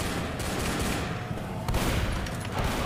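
Rapid gunfire in the Left 4 Dead video game, a dense continuous burst of shots over loud game noise, with no talk.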